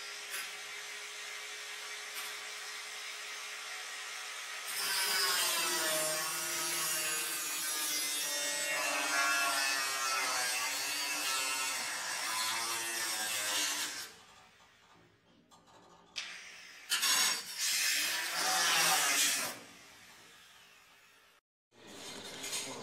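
A saw cuts the leftover end off a steel gate motor gear rack, about ten seconds of steady rasping strokes followed by several short bursts of cutting separated by near-silence.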